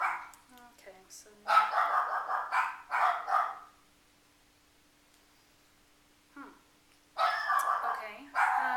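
A dog barks in short bursts at the start and again near the end, with a quiet gap between them, indoors and close.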